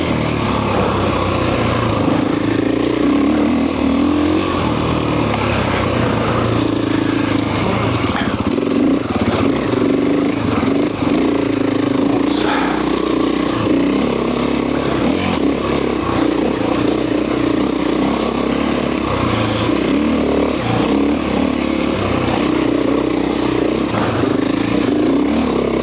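A Husqvarna FE 501 four-stroke dirt bike rides along in second gear, its engine drone steady and loud throughout with clattering and scraping from the terrain, the rider audible only faintly now and then.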